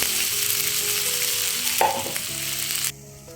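Rice stir-fried in a hot pan for hotel-style fried rice sizzles steadily and loudly up close, with a few scraping stir strokes partway through before the frying noise suddenly drops off near the end.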